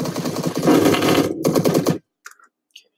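Rapid automatic gunfire in the video game Phantom Forces, a loud, dense burst lasting about two seconds with a brief pause, then silence broken by a few faint clicks.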